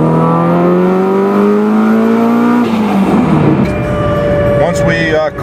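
A Subaru STI engine roars under hard acceleration in third gear on a dyno, with a fuel pressure problem, its pitch climbing steadily before a gear change, loud and close, with a voice talking over it.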